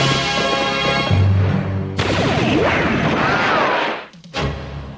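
A cannon booms over and over in a BraveStarr cartoon fight. The loud, sustained blasts and crashes run almost without a break, then drop out briefly before another hit.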